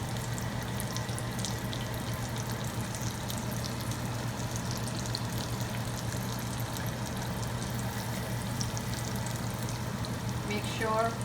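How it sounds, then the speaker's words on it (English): Egg-dipped eggplant slices shallow frying in oil give off a steady, moderate sizzle over a low constant hum, running evenly throughout. "We are gonna shallow fry them"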